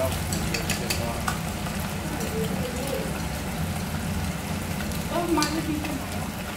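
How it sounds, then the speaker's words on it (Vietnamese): Goat meat sizzles steadily in hot oil, a dense crackling hiss with occasional stirring scrapes and faint voices in the background. "Xin giới thiệu đây là nầm nhá, nầm dê chiên nhá."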